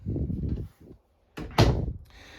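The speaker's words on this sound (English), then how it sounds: "you do have a pocket door to separate all this off" A pocket door inside a 2022 Forest River Cherokee Alpha Wolf 26RK-L travel trailer rolls along its track in two close, rumbling bursts, then knocks shut with a loud thud, close and clear.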